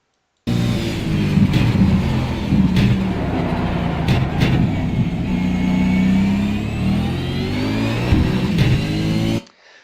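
Race car engine on a circuit, working through tight corners with gear changes; a loud, continuous close-up drone that rises and falls as it revs, with brief dips at the shifts.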